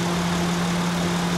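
Honda Odyssey 2015 EX-L van's 3.5 liter i-VTEC V6 idling, a steady, even hum with a low tonal drone and no voices over it.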